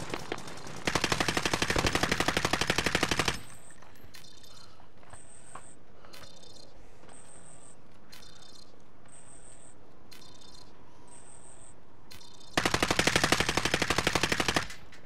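Rapid automatic gunfire from the Resurgence mode of a first-person shooter, two long loud bursts at the start and end with quieter game ambience, repeated electronic beeps and scattered distant shots between.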